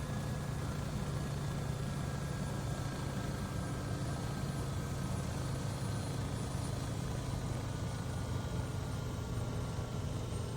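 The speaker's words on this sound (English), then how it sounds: "the engine goes quite low. As you can hear, the RPM goes quite low actually" A Bell 407 helicopter in the X-Plane 12 flight simulator runs with a steady, low engine and rotor drone at reduced RPM, faint and continuous with no talk over it.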